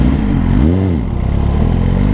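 A Suzuki GSX-R 1000 motorcycle, a 2024 model, engine braking on a downshift: a steady engine drone dips and swoops in pitch as the revs fall and rise again, loud and close.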